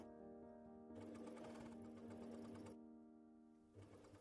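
An Elna sewing machine stitches a hem with a hem guide set to a 2.5 cm allowance, giving a close, steady mechanical whir in two sustained runs separated by a softer idle hum.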